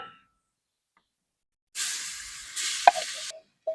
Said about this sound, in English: we're going to add our onions, peppers, and celery and garlic back to it